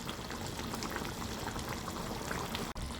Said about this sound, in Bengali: এ পর্যায়ে দিয়ে দেব আমি অল্প কেচাপ